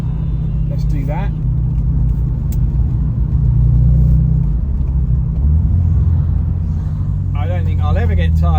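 A stock Toyota Supra MK4 rolls along with its windows open, low engine rumble and wind buffeting filling the cabin while someone speaks briefly at the start and end.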